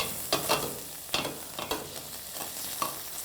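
Chicken mince frying in a pan gives a soft continuous sizzle. Several scraping stirs recur in an irregular rhythm at close range.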